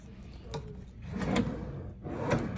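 A wooden nightstand drawer in a hotel room slides open with soft rubbing scrapes in several short bursts, quiet and close, with no talk.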